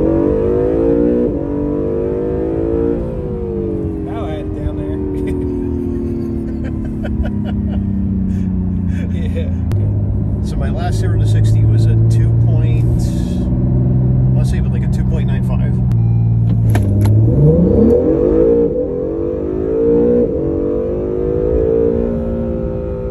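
An Acura NSX engine in the driving game Pat's Garage Online accelerates, its pitch climbing and dropping through gear changes over a long run, with someone talking over it throughout.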